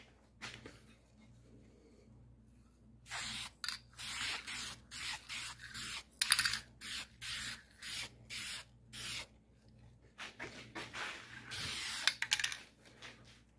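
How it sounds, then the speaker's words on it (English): Cheap aerosol primer sprayed as a guide coat onto Model A Ford parts, a series of short hissing bursts in an uneven rhythm, about a dozen close spray pulses separated by brief pauses, with no talk. "we're gonna use the little cheap primer here from Canadian Tire and give this thing a guide coat, all the parts"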